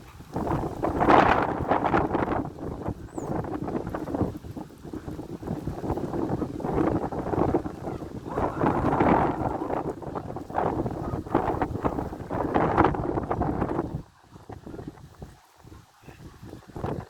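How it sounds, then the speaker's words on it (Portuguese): Strong wind roars and buffets the microphone in long, loud gusts, easing briefly before surging again toward the end. "O vento"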